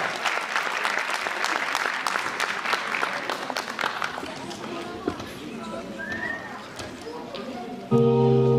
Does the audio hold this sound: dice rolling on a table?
no